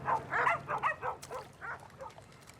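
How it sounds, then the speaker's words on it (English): Dogs bark in a Brooklyn park, with a quick string of yips and barks at moderate distance that tapers into scattered, softer calls over a low outdoor background. "you might see a weekend farmer's market, food vendors selling hot dogs and pretzels, and yeah, lots of dogs"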